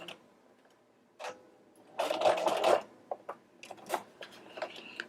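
A sewing machine stitches a buttonhole on a denim jacket in short bursts of fast mechanical whirring, with quiet clicks and ticks between runs, close and fairly faint.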